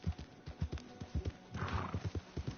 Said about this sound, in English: Yes, this is the horse.